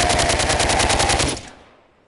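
Rapid automatic gunfire in the VR shooter DWVR rattles off in a fast, even burst of loud shots, then cuts off and fades away.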